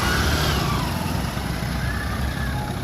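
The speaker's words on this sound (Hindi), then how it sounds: "ट्रैक्टर का आवाजाही चल रहा है।" A tractor engine drones steadily throughout at close range, a continuous low rumble of the heavy vehicle moving along a road with no talking.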